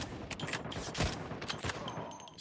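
A burst of rapid video game gunfire crackles at moderate distance, fairly faint, with scattered shots over a noisy background.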